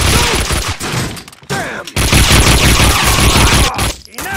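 Gunfire in the video game Max Payne 2 erupts in loud, dense bursts of rapid shots with brief pauses, and a voice shouts briefly amid the shooting.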